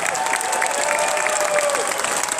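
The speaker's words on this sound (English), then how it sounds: "Let's give them a huge round of applause." An audience at a disabilities candidates forum breaks into a steady burst of applause, dense clapping filling the room without pause.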